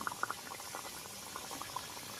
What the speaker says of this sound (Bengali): দেখুন কত হালকা আঁচে রেখে বিস্কুটগুলো ভেজে নিচ্ছি